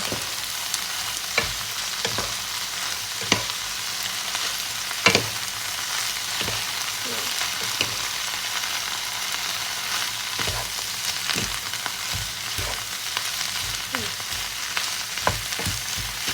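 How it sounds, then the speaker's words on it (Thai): Noodles stir-fried with white soy sauce in a pan give a steady close sizzle, broken by repeated scraping strokes and clacks of the spatula as they are tossed. "เติมซีอิ้วขาวนะคะ แล้วก็ผัดลุกเค้าให้เข้ากันนะคะทุกคน"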